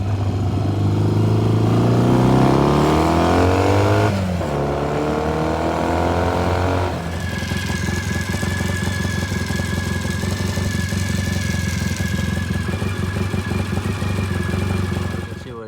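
A Triumph pre-unit Trophy motorcycle engine runs loud and close for the whole stretch, revving up and down with rising and falling pitch early on, then settling into a steady, slightly clattery idle.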